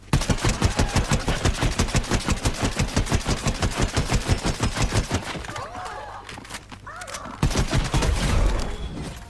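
Laser gun firing in the Fortnite video game, a fast, steady volley of loud sci-fi shots that runs continuously, pauses briefly, then resumes in another burst near the end.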